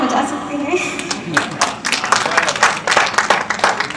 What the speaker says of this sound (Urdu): ہاں آپ تالیاں بجا سکتے ہیں